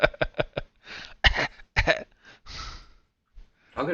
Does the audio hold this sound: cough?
yes